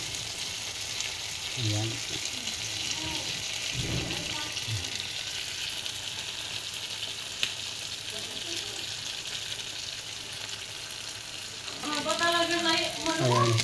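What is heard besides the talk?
sisig with eggs sizzling on a hot plate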